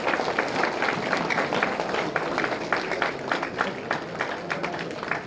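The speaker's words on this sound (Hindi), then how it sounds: "तालियां मारो भाई" Dense, continuous clapping from a crowd, fairly loud and steady throughout with no pauses.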